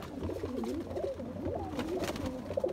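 Golden red-eyed pigeons coo nearby in rising and falling throaty warbles, several calls overlapping continuously over a low background hum.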